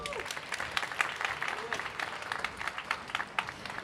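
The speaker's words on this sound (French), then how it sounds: "Pouvez vous applaudir, s'il vous plaît." An audience at a women entrepreneurs' summit in Dubai claps in a scattered, lively burst of applause, with some crowd noise mixed in.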